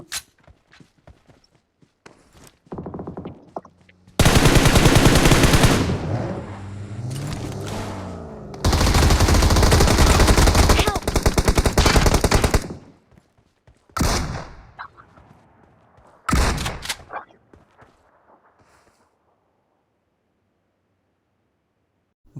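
An Android mobile shooter video game fires in loud bursts and sustained rapid volleys, separated by quieter stretches with short isolated shots and clicks, ending in near silence.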